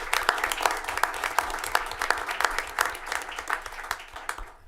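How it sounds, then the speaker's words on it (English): A round of applause at a city council meeting, with distinct individual claps from a modest group repeating steadily for several seconds before tapering off. "A round of applause for her."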